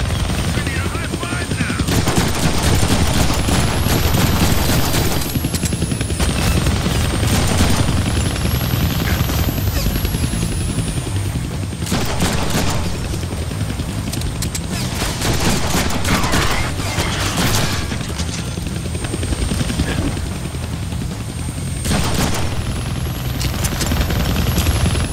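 Helicopter rotors drone continuously in the Deadpool video game while bursts of rapid gunfire rattle over them in repeated volleys, loud and close throughout.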